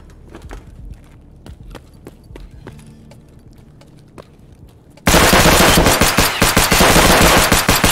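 Gunfire in Escape from Tarkov: scattered sharp shots for several seconds, then a sudden, sustained and very loud burst of rapid automatic fire that fills the rest of the clip.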